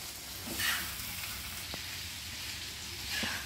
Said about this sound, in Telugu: చూడండి ఇలా ఫ్రై చేస్తూ ఉండాలి.